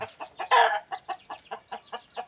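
Repeated clucking from a chicken in a quiet rural yard, a series of short, evenly spaced calls with one louder, longer squawk early on, close to the listener.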